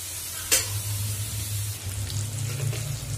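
Onion, tomato and ginger-garlic paste frying together in a hot pan with a little salt, a steady low sizzle throughout, with one brief sharp clatter near the start and faint stirring scrapes.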